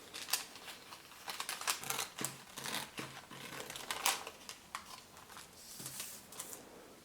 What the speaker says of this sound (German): nehme ich mir eine Schere und schneide einfach entlang dieser Linie